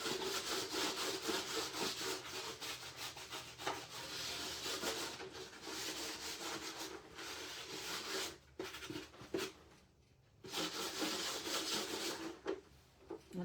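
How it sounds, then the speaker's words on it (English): Hand sanding of a thrifted wall pocket with a crackled, chipping milk-paint finish, a steady close scratchy rubbing that runs continuously with a few brief pauses, no talking. "I am going to sand this a little bit under the table."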